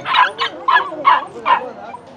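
Dogs bark repeatedly at a highland Sunday market in Mèo Vạc, northern Vietnam, where dogs are sold; five sharp bow-wow barks come close and loud in quick succession.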